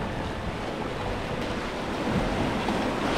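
Sea waves washing in on a coast, a continuous broadband surge with gusty wind noise on the microphone, swelling slightly louder toward the end, with no talk.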